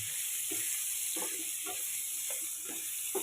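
Vegetables frying in oil give off a continuous close sizzle, with soft irregular stirring knocks breaking through every second or so.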